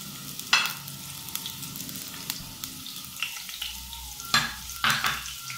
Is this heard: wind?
no